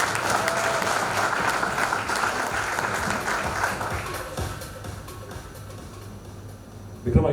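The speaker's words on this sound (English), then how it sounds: "Can we have a loud round of applause?" Members at a Rotary Club meeting give a loud, sustained round of applause that fills the room. The clapping gradually thins and fades toward the end, and a brief knock sounds just before it stops.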